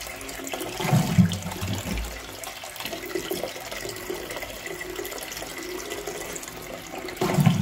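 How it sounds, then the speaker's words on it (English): A 1998 Armitage Shanks Sandringham Compact MK4 close-coupled toilet flushes, a gushing rush of water with gurgling bursts that fills the space, close and moderately loud, with no talk. "Come on, flush."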